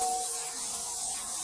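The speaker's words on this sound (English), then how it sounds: "raised the pepper spray in my hand" Pepper spray bursts out of a canister in a steady, loud, continuous hiss that lasts without a break.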